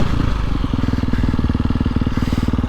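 A KTM 350SXF four-stroke motocross bike engine runs close and loud, a rapid even pulsing throb at a steady idle-to-low rev, heard alone without talk.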